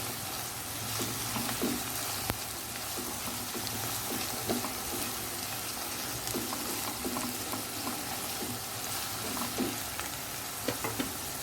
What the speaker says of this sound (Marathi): मुळा सुद्धा चांगला 1 मिनिट परतून घेऊ।